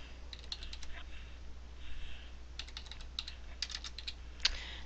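Quiet, close clicks from a computer at a desk, a few quick groups of small sharp taps over a low steady hum, as a button is clicked to save an entry in Medisoft software.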